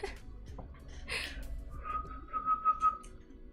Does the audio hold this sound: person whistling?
yes